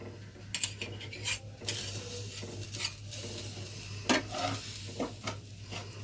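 Rice and lentils for khichuri stirred in a pot, quiet scraping and clinking of a spoon against metal in short bursts over a faint sizzle, with no talking.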